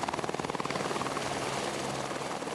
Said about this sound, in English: The helicopter arrives to be refueled.